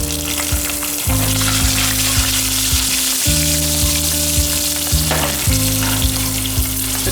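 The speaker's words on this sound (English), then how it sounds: "I'm going to add the peppercorns, the crushed peppercorns, then the green chilies" Cumin seeds, crushed peppercorns and green chilies crackling in hot oil for a pongal tempering, a loud, dense, continuous sizzle with a low steady hum underneath.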